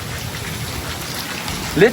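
Heavy rain pours steadily in a village, a dense, continuous hiss of drops hitting surfaces close by, with a brief louder splash or thump near the end. No one speaks.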